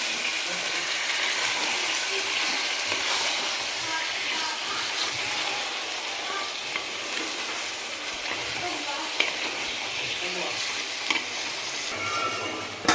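Chicken and mutton curry with country chicken being stirred in a frying pan, a steady sizzle with scraping and shuffling of the pieces, close and continuous.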